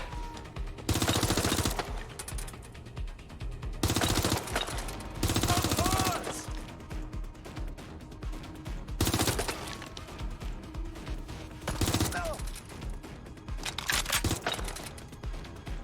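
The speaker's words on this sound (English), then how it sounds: "Suspect is shooting!" Bursts of gunfire in Watch Dogs Legion pop repeatedly over a busy game mix, loud volleys recurring every few seconds against steady background sound, with no clear talking.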